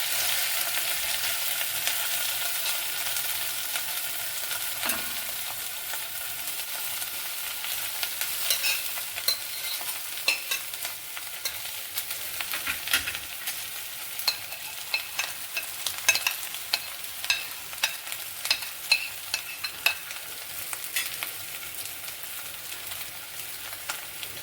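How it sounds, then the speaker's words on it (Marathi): Dried shrimp fry in hot oil with cumin while being stirred, giving a continuous soft sizzle with scattered crackles and scraping stir strokes throughout, no voices. "तर याच्यामध्ये सुकट टाकते, मी सगळं सुकट टाकते दोन्ही चटण्याचं."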